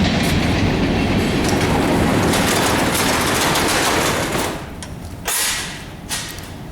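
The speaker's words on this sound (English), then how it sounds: "Frickin' trains are annoying." A loud train rumbles and clatters past close by, a dense roar with rhythmic clacking that fades toward the end.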